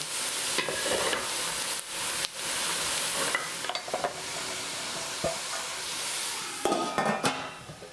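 Onions fry over low heat in a pan, a constant soft sizzle broken by frequent scraping and clinking stirs, close up.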